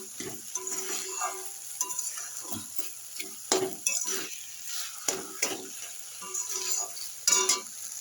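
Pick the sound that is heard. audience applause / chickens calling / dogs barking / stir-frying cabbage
stir-frying cabbage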